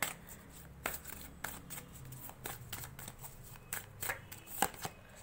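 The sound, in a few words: tarot cards being shuffled and drawn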